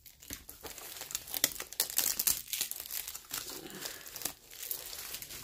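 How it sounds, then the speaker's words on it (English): Cut-open bubble wrap packaging being handled and crumpled, a steady run of dry crinkling and crackling rustles with some sharper tearing-like bursts, close up and fairly quiet throughout. "bubble wrap that I kind of cut through the middle of the bubble wrap"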